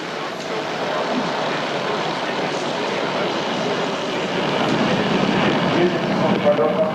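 A Soyuz rocket's first stage engines roar at full power after liftoff, a broad, dense rumbling roar heard from a distance that holds steady and swells slightly toward the end, with a voice talking over it.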